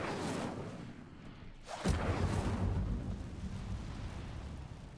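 A fire spell is cast in the Hogwarts Legacy game: a sudden whooshing burst near the midpoint, then a sustained roaring, crackling rumble of flames. It sits over steady game ambience, with no talk.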